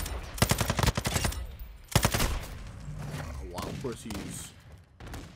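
A Sakin MG38 machine gun fires in Modern Warfare 2, with rapid bursts of close, loud automatic fire, a short pause, then another burst, while a player talks over the action.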